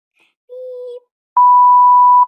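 Electronic notification beeps: a short, quieter tone, then a longer, loud steady beep lasting almost a second, heard alone without talk.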